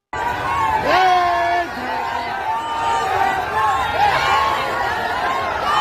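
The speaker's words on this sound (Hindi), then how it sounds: "देखिए कितनी भीड़ उमड़ पड़ी और नारों से फिजा गूंजने लगी" A large crowd gathers at the Kharsawan martyrs' memorial, a loud continuous murmur of many voices with raised shouts and calls rising through it, close and busy throughout.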